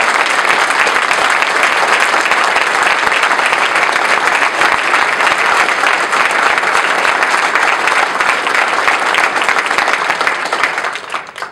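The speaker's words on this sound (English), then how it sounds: "can we give the staff and all the commissions and all the committees a round of applause?" Sustained, loud applause from an audience at Colorado Water Plan remarks, honoring staff and committees; dense clapping holds steady for about eleven seconds before tapering at the end.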